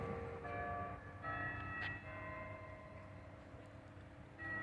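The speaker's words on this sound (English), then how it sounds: "And there goes the bells of the Netherlands." Netherlands Carillon bells ringing at Arlington Cemetery, sustained tonal chimes heard from a distance outdoors, several overlapping struck notes lingering and fading softly over a faint background hum, no talking.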